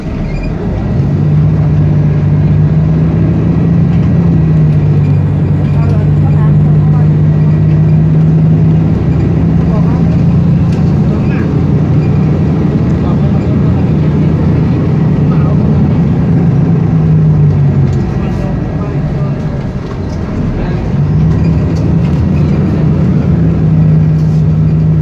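An airport shuttle bus on line C at Suvarnabhumi drives along with a loud, steady engine drone inside the cabin, and the engine pitch rises and falls as it changes speed.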